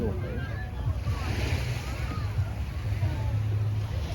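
Ocean waves washing in continuously, a broad rushing surf mixed with gusts of wind buffeting the microphone, close and fairly loud, with faint voices now and then.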